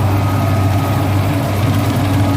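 A Duramax diesel pickup truck engine idles nearby on a farm, a steady low rumble with an even, unchanging throb throughout and no talk.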